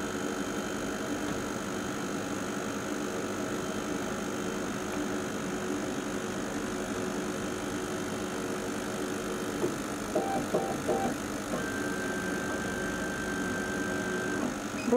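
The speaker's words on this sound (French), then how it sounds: "Donc la machine va prendre tranquillement sa bonne position." A CO2 laser cutter with a Ruida 6445 controller moves its head into focus position, giving a steady low mechanical hum with faint whirring and brief stepper-like chirps near the end, alone with no talk.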